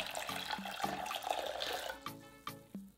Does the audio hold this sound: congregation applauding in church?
no